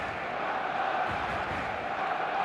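A stadium crowd in the eFootball video game roars in a steady, dense wash of noise just before a match, sustained and fairly loud throughout.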